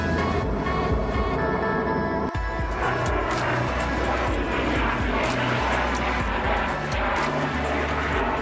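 A jet aircraft flies by with a loud, continuous engine roar that holds steady for the whole stretch, broken by one sharp click early on, with no speech.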